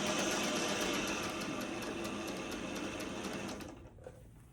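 A sewing machine stitches a quilt block for a LeMoyne Star, running steadily and fairly loud with a fast mechanical whir, then stopping near the end.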